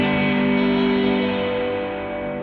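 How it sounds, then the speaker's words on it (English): A Source Audio Artifakt Lo-Fi Elements pedal with its Destruct setting adding distortion to the reverb, producing a loud, sustained, buzzy wash of distorted reverberant tone that slowly fades, with no talking over it. "This time I'm going to start with Destruct, which adds distortion to the reverb."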